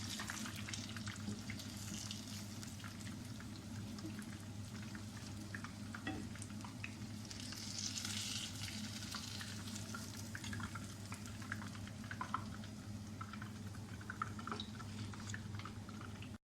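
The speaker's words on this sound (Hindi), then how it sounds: "फ़िश हमारी बाकी की फ्राई हो रही है।" Fish frying in a pan alongside a spiced masala, giving a steady, even sizzle throughout with faint drips and crackles over a low background hum.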